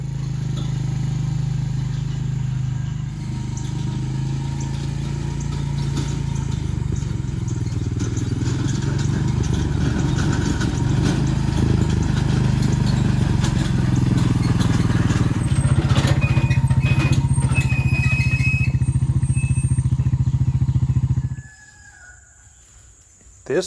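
Four-wheeler ATV engine running steadily while hauling firewood up a steep, narrow hillside road, a loud low droning hum throughout with occasional rattles, cutting off abruptly near the end.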